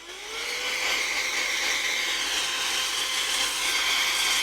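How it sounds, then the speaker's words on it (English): A battery-powered USB-C blower cleaning a keyboard spins up with a rising whine, then holds a loud, steady high-pitched whir with airy hiss. "So we got a battery USB-C blower here."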